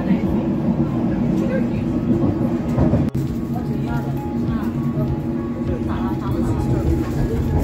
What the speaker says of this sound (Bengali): ট্রেনে উঠে গেলাম